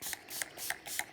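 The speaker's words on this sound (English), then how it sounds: "I just give myself a little quick spray over my paints" Quick bursts of water from a hand spray bottle misted over a watercolor paint palette, about four or five short rhythmic spritzes in close succession, close and clear with no talking.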